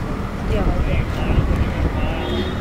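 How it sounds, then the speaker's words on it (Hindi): Wind buffets a microphone outdoors beside a road while waiting for a taxi, a steady broadband rumble and roar running continuously throughout, with faint traffic-like noise mixed in. "और हवा तो बहुत अच्छी चल रही है,"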